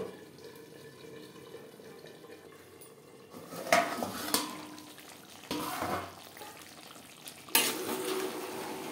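Kohlrabi frying with spice paste in a pan, a faint low sizzle at first, then several clanks and scrapes of a utensil against the pan over a soft hiss.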